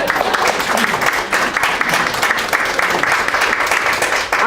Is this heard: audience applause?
yes